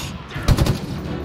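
Gunfire in the Halo Infinite video game: a short loud cluster of shots bursting out over a steady game background, brief and close.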